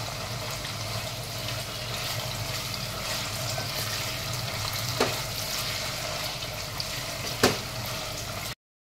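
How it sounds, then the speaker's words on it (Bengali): Paneer frying steadily in a pan, a continuous even sizzle with a couple of brief sharp pops or clinks near the end, no voices. "পনিরটা হালকা হাতে ভেজে নেব।"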